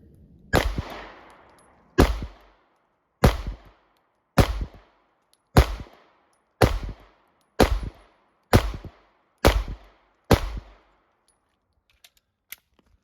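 Eleven loud, sharp gunshots from a rifle topped with a Primary Arms SLX RS-10 optic fired at a target about seven yards away, evenly spaced roughly a second apart, each echoing briefly, followed by a couple of faint clicks.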